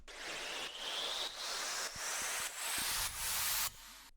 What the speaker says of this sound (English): 3 different sweep ups.